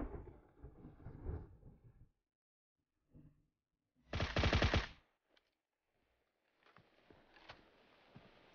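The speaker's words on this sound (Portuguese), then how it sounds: "É tiro lá de cima." Gunfire in the battle royale video game PUBG Mobile: a short distant spatter of shots, then a loud close burst of rapid automatic fire, followed by faint scattered shots and rustling.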